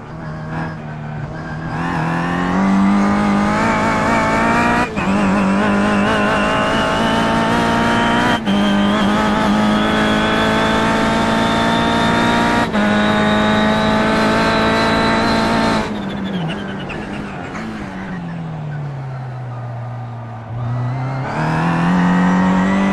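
Kia race car engine screaming through gears on track in iRacing, a loud steady high-revving drone with sharp upshifts every few seconds, a deep lift and downshift near the end before accelerating again.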